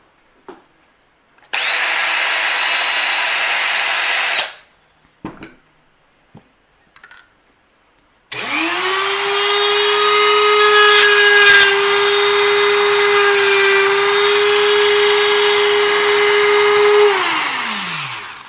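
A high-pitched rotary tool with a ball cutter whines in two long bursts carving wood, close and loud, with a short grinding cut and small clicks between them.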